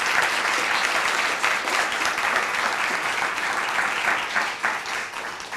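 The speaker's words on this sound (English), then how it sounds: "Let's give them a big round of applause." Applause from a luncheon audience thanking a panel at a family weekend event: a dense, sustained wash of many hands clapping at steady loudness for the whole stretch, with no voices above it.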